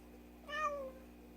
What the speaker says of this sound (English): Poor cat.